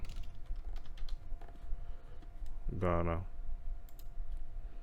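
Typing a country name on a computer keyboard, heard as faint scattered key clicks under a quiet room hum, with a brief voice in the middle.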